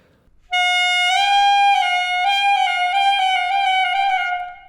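Saxophone moving from D up to E with the fingers of both hands out of step, giving a smeared, wobbly transition before the upper note settles; a loud, close solo tone with no speech.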